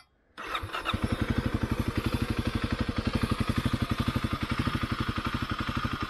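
A Kawasaki KLX250 dirt bike fires up after a short moment of quiet, then settles into a steady, even single-cylinder idle with rapid regular thumping pulses, close and loud, with no talking.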